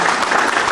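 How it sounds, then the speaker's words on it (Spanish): A short, dense burst of audience applause closes a talk on historical truth and memory, loud and continuous. "vamos a darles un fuerte aplauso"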